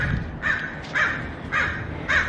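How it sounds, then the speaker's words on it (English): A crow caws loudly outdoors, four harsh calls spaced about half a second apart, close to the listener and standing clearly alone. "Molly Cat has her eyes on this crow here, and it's the one that's making all that noise."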